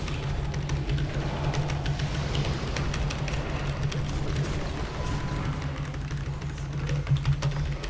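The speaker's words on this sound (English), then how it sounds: "You can hear that keyboard" Computer keyboard being typed on rapidly during a World of Warcraft raid, a fairly quiet stream of dense clicks over a steady background hum.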